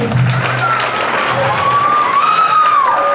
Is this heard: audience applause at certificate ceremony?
yes